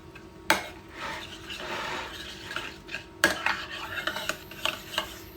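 Olive oil, pepper and salt are mixed in a bowl with a utensil, giving soft continuous scraping and stirring broken by sharp clinks of metal against the bowl.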